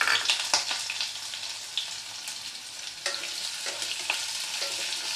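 A small onion is added to oil where garlic has already been fried, cooking red lentil dal. It makes a steady, moderate sizzle with a few sharper spits and stirring clatters, and there is no speech.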